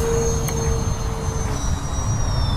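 A Turbo Timber Evolution 1.5 m RC model airplane taking off on its maiden flight, its electric motor giving a steady, fairly loud whine with a faint tonal hum over a rumbling outdoor background, and no talking.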